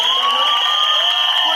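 A crowd at a film trailer launch event applauds and cheers loudly and continuously, with shrill whistles and whoops riding over the clapping.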